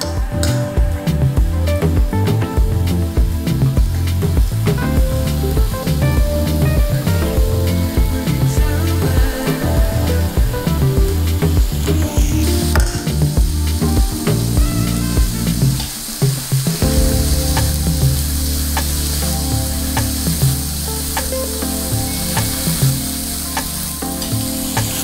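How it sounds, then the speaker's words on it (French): Chicken tsukune skewers grill on a hot plate without oil, a loud, close, continuous sizzle that shifts in texture partway through. "vous mettez votre plaque à fond et vous faites griller les deux côtés"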